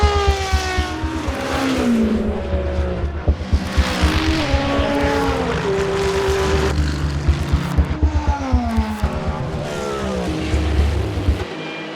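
World Endurance Championship race cars scream past one after another. Their engine notes rise and fall as each passes close by, loud and continuous, with no talking.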